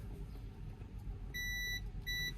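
A handheld multimeter gives a steady continuity beep in two bursts, the first longer and the second shorter, over a low idling engine rumble in a vehicle workshop while the wiring of a plug is tested.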